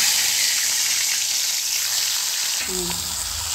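Potatoes fry in hot oil for a potato dish, a constant loud sizzle and crackle close by, with a brief soft clatter of more pieces being added near the end.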